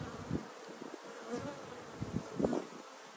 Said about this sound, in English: They're darker bees.